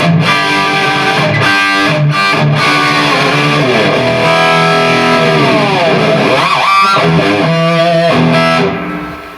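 Jackson electric guitar with Duncan pickups strumming loud, distorted chords, sustained and ringing, with a few quick changes and pauses between the chords.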